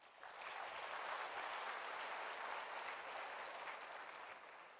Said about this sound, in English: Can we have a huge round of applause for the MC